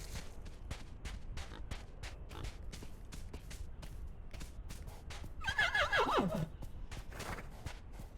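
A horse in a video game lets out a clear whinny midway, over repeated soft thuds and clip-clop hoofbeats at a steady rhythm.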